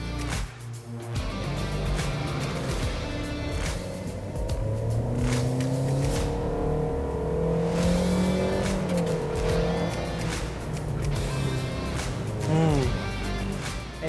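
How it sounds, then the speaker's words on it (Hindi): Toyota Yaris engine revving hard under throttle, a loud continuous drone with rising and falling pitch sweeps as revs climb, close and sustained throughout. "गाड़ी को मैंने अभी थ्रॉटल दे के देखा है, गाड़ी शोर बहुत मचा रही है"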